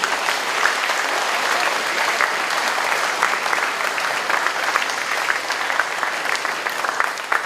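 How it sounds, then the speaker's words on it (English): Students at a school end-of-year assembly applaud steadily, a dense sustained wash of many hands clapping at even loudness throughout, with no voices standing out. "Can you give yourselves a round of applause?"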